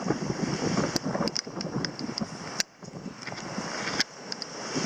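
A sailboat runs in a 15 to 25 knot wind, with steady wind roar on the microphone and rushing water, broken by sharp gusty knocks and splashes.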